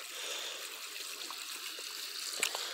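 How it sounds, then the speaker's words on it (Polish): Water pours from a watering can into a trough for farm animals, a soft continuous trickling splash with a brief louder spatter near the end, heard close and alone. "I wlewamy. Na razie taką konewkę wody przyniosłem"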